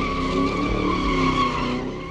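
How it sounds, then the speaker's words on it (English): A car drifts on a street in Cleveland, its tires skidding in one sustained high squeal over engine roar, loud and close, with no one talking. "A car drifting with someone hanging out the passenger window."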